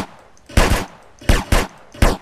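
Shotgun fire in the multiplayer game GTA San Andreas, four loud sharp blasts at irregular intervals, close and punchy, with quiet background between shots.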